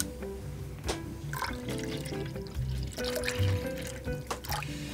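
Liquid, diluted with a little water, poured into a container, with irregular splashing, trickling and dripping at close range and fairly faint.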